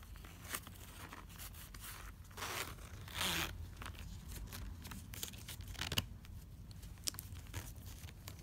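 A zipper on a Recollection pen case is drawn open in a few long, rasping pulls, with crinkly handling and rustle between strokes, close and fairly loud.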